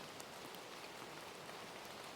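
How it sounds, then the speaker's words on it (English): Steady rain falls outside a plain hotel building, a constant dense hiss of drops hitting surfaces at even volume throughout, with no voices or other sounds. "And it's raining."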